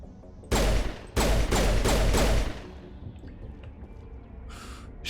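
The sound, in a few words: gunfire in the video game Mass Effect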